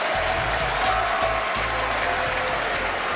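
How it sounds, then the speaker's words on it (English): A boisterous basketball crowd at Hilton Coliseum in Ames, Iowa, during an Iowa State versus Kansas game, roars and applauds in a steady, loud wash of cheering. "A raucous beginning, a boisterous crowd."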